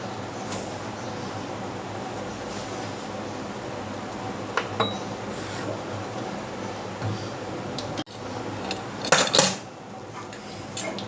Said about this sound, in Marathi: तोपर्यंत हा किचनचं जे आहे ते आवरून घेते